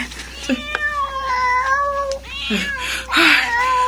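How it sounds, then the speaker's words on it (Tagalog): A cat meows several times in drawn-out, wavering calls, close and loud, with a faint low hum beneath and no talking in between. "pusa lang pala"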